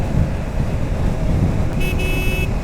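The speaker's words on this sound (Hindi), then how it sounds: "अब धीरे धीरे ट्रैफिक बढ़ता हुआ" Road traffic as morning rush builds on a Delhi to Srinagar motorbike run, a steady broadband roar of engines and road noise with a short car horn toot near the end, no talk.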